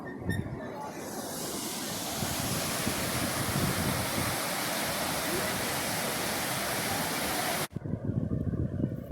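The Presque River pours into Lake Superior with a loud, broad rushing roar of water and wind, building after a quieter start and cutting off abruptly near the end before resuming more faintly.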